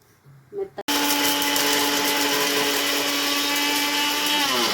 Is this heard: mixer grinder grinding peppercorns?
yes